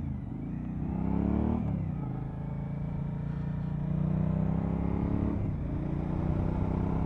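A Suzuki V-Strom 1000 motorcycle accelerates hard, its engine note rising steadily and loud through two gear changes, a continuous close-up roar with no talking.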